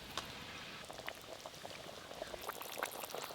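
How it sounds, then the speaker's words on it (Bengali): A Bengali chitol fish curry in oil bubbles at a steady boil, a soft continuous simmering fizz with faint popping, heard close and quiet without any voices. "এই যে খুব ভালো করে তো ফুটে গেল, আর তার সাথে সাথে তেলও ভেসে উঠেছে"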